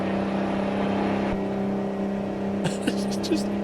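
Heavy truck engine in a trucking video game straining up a hill, a loud steady droning hum with a brief voice and sharper noises breaking in near the end.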